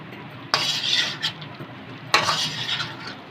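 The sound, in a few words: chicken karahi being stir-fried (bhuna) in a wok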